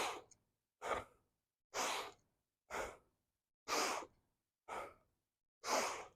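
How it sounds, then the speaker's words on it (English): Seven sharp, forceful breaths through the nose alternate inhale and exhale at a steady rhythm about once every 0.9 seconds, close and clear with silence in between, as part of a seated kundalini yoga breathing sequence. "start breathing very sharply, inhaling through your nose, equally sharply exhaling through your nose,"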